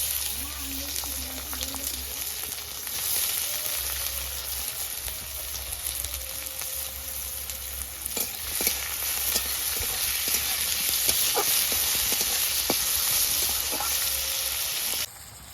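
Onions fry and are stirred in oil in a hot pan for a pumpkin-greens and sesame-poppy dish, a continuous near sizzle with intermittent utensil taps that swells slightly before cutting off at the end.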